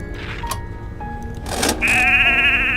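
A few short electronic tones lead into a loud, wavering sheep bleat that holds for about a second, synthetic and game-like, from the video game A Vampyre Story.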